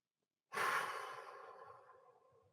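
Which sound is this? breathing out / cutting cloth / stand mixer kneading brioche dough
breathing out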